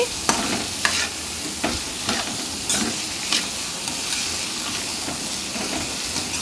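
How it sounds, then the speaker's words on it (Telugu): Chopped ivy gourd fries in a pan for an Andhra-style dondakaya fry, a ladle stirring and scraping it in repeated strokes over a steady close sizzle and hiss. "మొత్తం కూడా ఈ విధంగా కలిసే విధంగా గరిటతో కలిపేసుకోవాలి"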